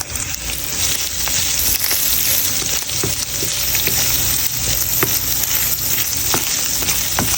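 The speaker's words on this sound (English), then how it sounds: "I'm gonna go ahead and add the seasonings to this, and then we'll cook it for another minute" Browned sausage with added seasonings sizzling in a pan, a loud steady frying hiss broken by occasional crackles and spatters, heard alone.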